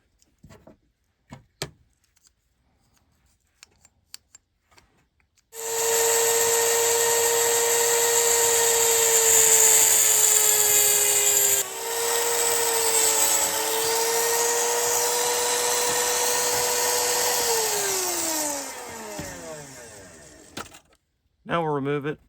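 A small power tool, likely a rotary cutter, cuts a firearm trigger during a Hoffman Tactical Super Safety install, a loud steady high-pitched whine about fifteen seconds long with a brief dip midway before winding down, preceded and followed by light handling clicks.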